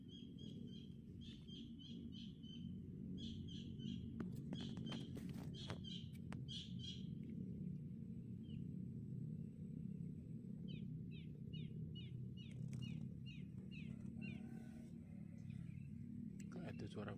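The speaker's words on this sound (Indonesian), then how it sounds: "Kayak ada suara burung." Repeated short bird chirps ring out in clusters over a steady low rumble of outdoor background noise, fairly faint and somewhat distant.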